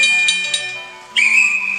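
A shrill electronic whistle from a Lego City Cargo Train 60198 toots, fading out, then a second bright whistle blast starts up loud and close.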